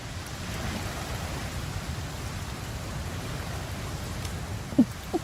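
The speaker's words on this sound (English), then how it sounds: "A rainy day is perfect for picking rainy orchids." Steady rain falls in the video game Infinity Nikki, an even, unbroken hiss of drops that runs alone throughout, with one small soft knock near the end.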